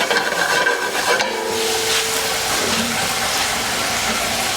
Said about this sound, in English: What we're just gonna do is throw the shrimp in the butter.